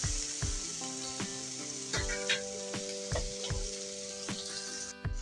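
Vegetables sizzling in a pan, a bright continuous hiss broken by regular clacks and scrapes of a spoon stirring, close and moderately quiet, with a steady hum underneath.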